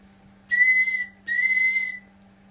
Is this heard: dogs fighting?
no